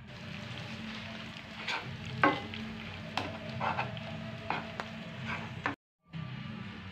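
Chocolate and half a cup of butter melt together in a pan for an eggless wheat brownie, making a soft, low sizzle. Irregular spoon scrapes and taps run through it, and it drops to a brief silence near the end.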